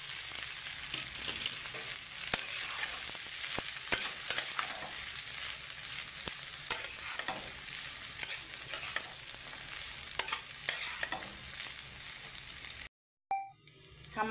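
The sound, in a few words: stirring flattened rice (chira) in pan for poha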